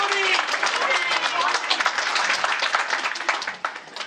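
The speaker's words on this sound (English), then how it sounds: "if we could give her a round of applause for putting this together" Audience applause fills the hall at a Democratic victory party in a Crown Plaza hotel ballroom, a dense, steady wash of clapping with crowd voices mixed in, fading slightly near the end.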